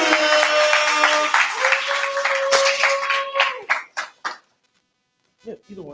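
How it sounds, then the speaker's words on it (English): Audience at a commencement claps and cheers to welcome the VP of Operations, loud sustained applause with whoops over a voice, tapering into a few scattered claps and then near silence. "Everybody clap it up for Jessica."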